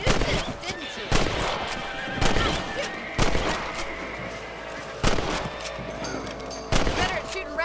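Gunshots ring out while shooting rabbits in Red Dead Redemption, several sharp cracks spaced a second or two apart, mixed with horse whinnies and spoken dialogue.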